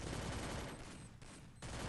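Rapid bursts of video game gunfire rattle continuously, dropping back briefly in the middle before resuming at full intensity.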